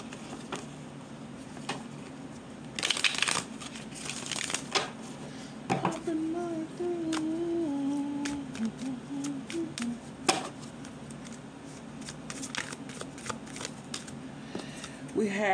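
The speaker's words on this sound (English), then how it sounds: "All right, final shuffle." Oracle cards being shuffled by hand, a papery riffle of bursts with brief pauses, quiet, under someone talking and humming softly throughout.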